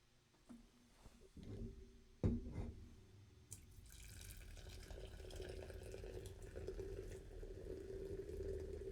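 Monster Beast energy drink pours from a can into a glass, starting with a few knocks and a quick splash, then a steady fizzing, gurgling stream that runs close and fairly quiet to the end.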